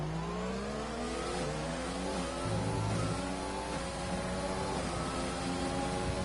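Formula 1 racing car in a video game powering out of a hairpin corner, its high engine note climbing in rising harmonic sweeps through successive gear changes, loud and steady for several seconds with no voices.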